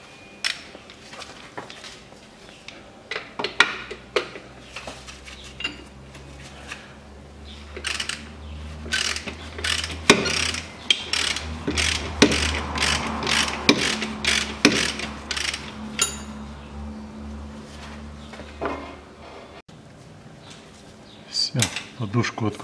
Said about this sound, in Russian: Выкручиваю эти болты и откручиваю болт центральной подушки.